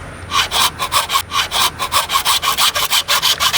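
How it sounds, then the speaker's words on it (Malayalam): A hand saw cuts through yellow bamboo for a homemade bamboo cannon, giving a fast, regular rasping stroke rhythm of about five strokes per second, close and loud with no voices. "ഈ മഞ്ഞ മുള വെട്ടിക്കൊണ്ടിരിക്കുകയാണ്"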